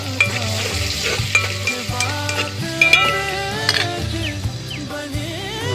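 Half-fried meat and onions for biryani sizzle steadily in a pan, close and loud, with repeated scraping stirs and light clinks of the spoon against the pot throughout.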